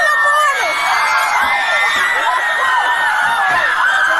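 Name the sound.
crowd screaming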